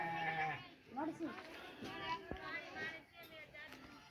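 Sheep bleat a few times, wavering cries rising over a steady background of outdoor noise and nearby voices.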